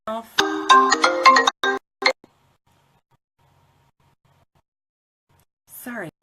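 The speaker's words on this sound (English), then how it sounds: "Sorry, phone call." A phone ringtone plays a bright electronic melody for about two seconds, stops, then starts again briefly after a long silence.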